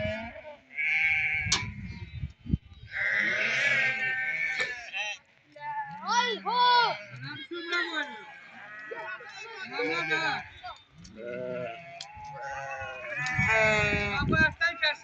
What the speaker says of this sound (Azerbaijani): Qəşəng quzuları var. Quzularına baxın. İki quzuları var.